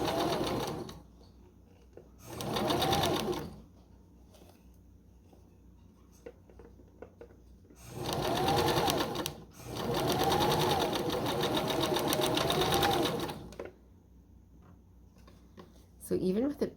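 A sewing machine stitches a velvet seam in several bursts of steady, whirring running, separated by pauses with faint handling noises, close and clear, with a spoken voice between runs.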